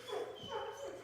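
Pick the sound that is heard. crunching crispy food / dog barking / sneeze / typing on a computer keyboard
dog barking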